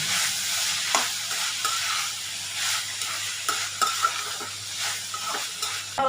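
A tomato and vegetable masala stuffing sizzles in a pan, a steady frying hiss broken by occasional scraping stirs, with no voices.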